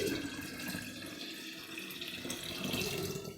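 Filtered water poured into a jar for making homemade kombucha, a steady splashing, gurgling stream that runs continuously at close range, with no voices.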